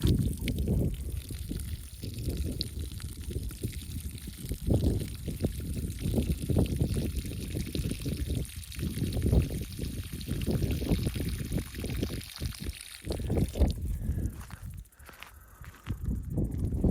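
Water pours and splashes steadily onto the ground while watering a tree in the hills, a continuous close trickle and gush that thins out near the end.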